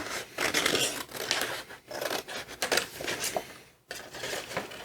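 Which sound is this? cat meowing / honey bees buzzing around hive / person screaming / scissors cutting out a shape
scissors cutting out a shape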